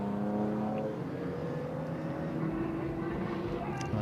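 Racing cars pass the Heritage pit lane at Silverstone after the chequered flag, a steady engine drone heading back toward the wing, moderately distant and continuous with no talk.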